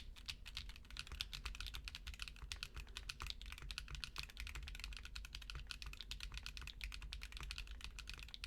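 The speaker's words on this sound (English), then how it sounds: "The lube switches are like literally a hair better, and they just barely like make it a slightly deeper sound." Fast, steady typing on a custom mechanical keyboard with lubed switches, close and fairly quiet, a dense run of crisp individual keystrokes with no talking.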